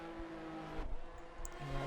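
A Formula 1 race car in a video game pulls out of the pit lane at the Monaco Grand Prix, its engine a steady, fairly close droning whine that drops and then shifts pitch near the end, with no talking.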